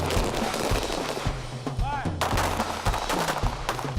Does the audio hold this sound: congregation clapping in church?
no